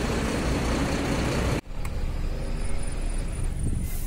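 A BharatBenz BS6 14-wheel truck engine pulls hard under acceleration, a loud, steady low roar from inside the cab with a brief dip partway through before the drone resumes.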